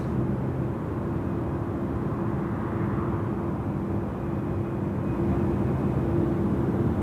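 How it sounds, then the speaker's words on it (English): At Sydney Airport during curfew hours, the jet engines of an Airbus A330 spool up in a steady low rumble with a faint whine, rising a little louder near the end. "I can hear that 330 spooling up."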